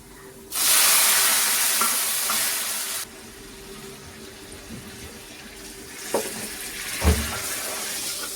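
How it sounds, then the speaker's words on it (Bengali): Lentils hit a hot garlic, onion and spice tempering in a pan, a loud sudden sizzle that fades after a few seconds, then softer sizzling with a couple of clanking stirs. "এখন আমি ডাল দিয়ে দিব।"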